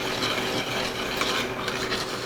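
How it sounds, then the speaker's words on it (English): Honey BBQ sauce of ketchup, brandy and honey is stirred in a pot, making a continuous close swishing and scraping that runs without pause for a couple of seconds. "we're gonna add our honey. And guys, we're gonna give this a good mix"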